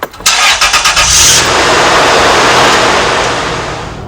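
A 2003 Toyota Tacoma truck engine starts with a quick burst of starter cranking, then catches and settles into a loud, steady idle close by.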